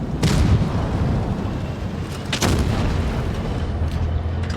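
Heavy tank cannon shots in World of Tanks Blitz, a booming blast near the start and another sharp boom midway, over a constant low rumbling battle engine drone.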